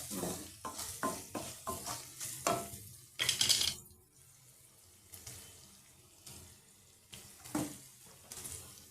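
Sliced onions fry with salt in a pan for a prawn curry, sizzling under repeated stirring scrapes that come in a regular rhythm, then a quieter sizzle with a few more stirs, close and fairly soft.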